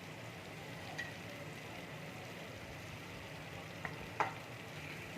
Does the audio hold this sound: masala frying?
yes